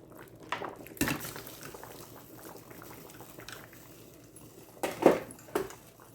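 Shrimp go into a simmering pot of Louisiana seafood gumbo: soft, quiet bubbling with a few sharp clinks and splashes near the start and again toward the end.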